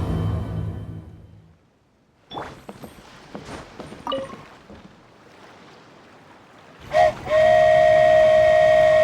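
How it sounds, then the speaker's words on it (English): A toy train's steam whistle blows loud and sustained near the end of a scene in the video game Genshin Impact, after quieter clatter and movement sounds. "So this is what it feels like to ride a toy train."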